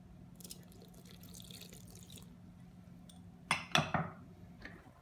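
Water poured into a Thermomix bowl during quiche dough making: a short close splash and trickle with a couple of clinks after a stretch of faint background hum.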